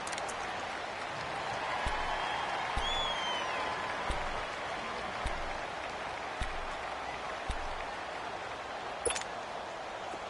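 Steady crowd roar from a PS4 American football video game builds ahead of a big third down, a continuous broadband wash of cheering with scattered claps and small peaks, no voices clearly over it.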